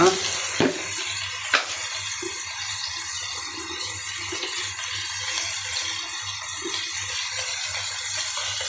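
Soft, steady frying sizzle of chicken in a pan after black pepper and bay leaves go in, with a couple of sharp clinks at the start and a low hum beneath, fairly quiet and close.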